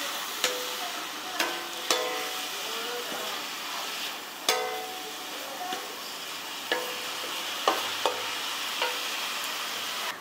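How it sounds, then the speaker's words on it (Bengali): Leafy greens are stirred with rock salt in a pan, a soft continuous sizzle broken by sharp, irregular clacks of a spoon against the pan, with no one talking. "এবার শাক আর লবণ ভালো করে মিক্স করে নিচ্ছি"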